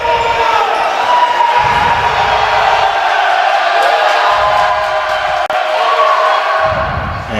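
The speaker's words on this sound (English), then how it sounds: "the crowd getting into it as they did their best to distract her at the free throw line" A college women's basketball crowd roars steadily through a free throw, a dense wash of voices and cheering in a gym that stays loud from start to finish.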